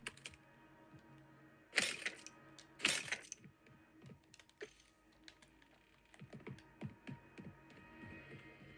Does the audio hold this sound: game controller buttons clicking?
yes